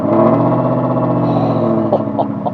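A 2016 Mustang Shelby Super Snake, a right-hand-drive car, runs with a loud, steady, deep engine rumble close by, holding an even idle throughout.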